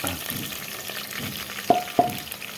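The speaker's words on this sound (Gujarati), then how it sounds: "જો આ રીતના કંઈક મરચાં તળવાના." Chillies frying in a pan give a steady low sizzle, with two sharp clinks close together near the end.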